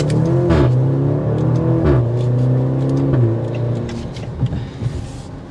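A 2023 Maserati Grecale Modena pulls away from a stop with a loud engine surge, pitch climbing through several gear changes before easing into a steady cruising whir, heard from inside the cabin with no talking.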